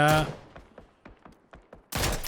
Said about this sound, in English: Senya will be able to get the final shot with the SKS.